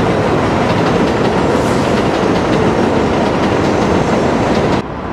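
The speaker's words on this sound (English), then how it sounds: "there goes the train again" A subway train rumbles along an elevated line overhead in Long Island City, Queens, a loud, continuous roar with rhythmic clacking of wheels over rail joints, ending abruptly as it passes.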